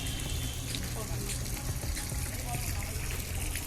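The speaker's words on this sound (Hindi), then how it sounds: "मम्मी पौधों में पानी डाल रहे हैं।" Water gushes steadily as it pours out onto plants, a continuous splashing rush with faint voices in the background.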